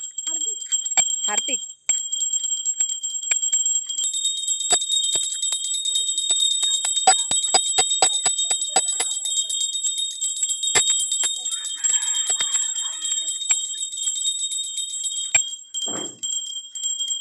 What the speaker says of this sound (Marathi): छान पैकी घंटा वाजवतो बघा छोटा मुलगा